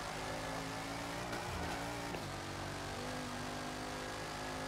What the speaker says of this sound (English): through the tunnel, this car does sound very nice, though